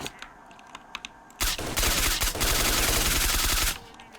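Rapid automatic gunfire in S.T.A.L.K.E.R. Shadow of Chornobyl, a loud sustained burst of dense shots after a few sparse clicks, lasting over two seconds before cutting off.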